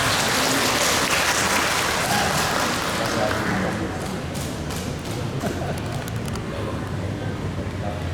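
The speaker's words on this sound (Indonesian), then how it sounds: "Berikan tepuk tangan dari saya" Broad, steady applause from an audience at a morning university ceremony, loudest at the start and thinning slightly as it continues, with no speech over it.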